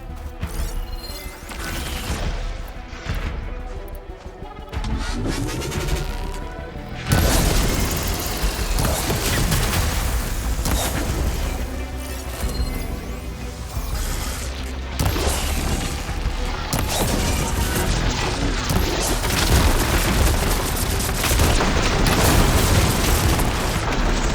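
Heavy booms and explosions with mechanical clanks from ballista shots in the video game Horizon Forbidden West, loud and dense throughout with a sustained blast-heavy roar building after the first seven seconds.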